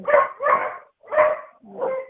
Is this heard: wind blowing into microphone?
no